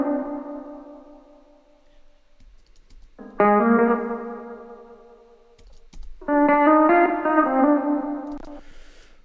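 Electric guitar playing a melody through amp spring reverb, amp distortion and delay, three sustained harmonic-rich phrases with decaying echo tails and brief gaps between them, heard alone with no talking.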